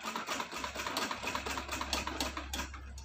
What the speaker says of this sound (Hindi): तो ये हमने सिलाई लगा करके ये गले को रेडी कर लिए